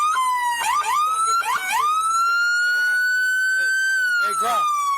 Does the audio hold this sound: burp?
no